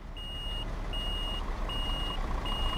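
A truck in Euro Truck Simulator 2 reverses between parked cars, its backup alarm sounding four evenly spaced high beeps over a continuous low engine drone, loud and close, with nobody speaking.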